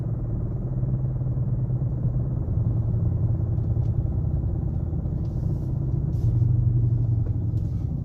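A Dodge Charger RT engine with a problem noise idles in a steady, low, close rumble, with a faint intermittent tick riding above the drone.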